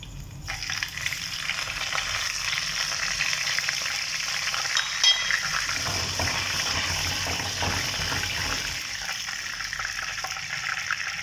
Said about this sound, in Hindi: अब इसमें 2 बड़ी इलायचियाँ और 1 चाय का चम्मच जीरा शामिल करेंगे।